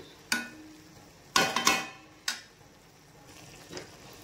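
Pulao stirred in a pot after sugar is added, a few sharp scraping strokes of a spoon against metal separated by quiet pauses.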